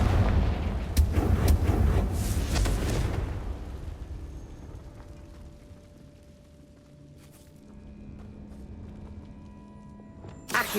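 Confringo spell blasts from Hogwarts Legacy boom loudly for the first few seconds as a cluster of deep explosions, then fade to a low rumble and faint clicks.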